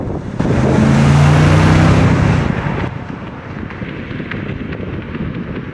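A 2003 BMW Z8 Alpina Roadster accelerates hard, its engine note rising loudly for about two seconds with a strong tonal drone and wind rush, then easing into a steady cruising roar.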